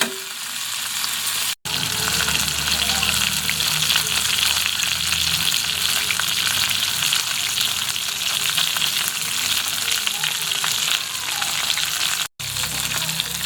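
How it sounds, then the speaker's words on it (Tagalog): Chicken pieces searing in a hot pan, a steady loud sizzle and crackle throughout, with a couple of brief breaks. "I-sear natin ng mga 2 to 3 minutes tapos balikan natin mamaya"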